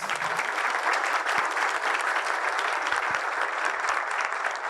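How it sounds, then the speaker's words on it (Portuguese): Steady audience applause at a political debate, dense and continuous clapping filling the room at an even loudness throughout, with no voices over it. "Por favor, uma salva de palmas."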